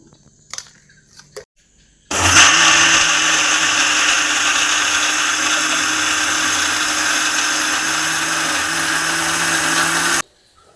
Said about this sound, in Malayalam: അങ്ങനെ നമ്മൾ ദോശയുടെ ആവശ്യമായ കൂട്ടുകളെല്ലാം ചേർത്ത് അരച്ച് കഴിഞ്ഞിട്ടുണ്ട്